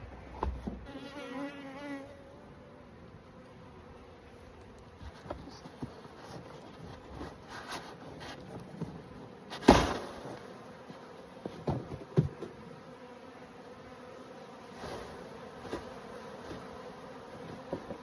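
A honeybee swarm being hived, a faint steady buzzing of many bees with occasional close bees passing, and scattered knocks and handling bumps.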